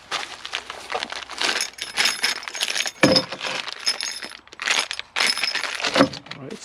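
Small metal bolts and strut parts from a Ford Mondeo Mk4 bonnet strut kit jangle and clink in irregular bursts while being handled and unpacked close by.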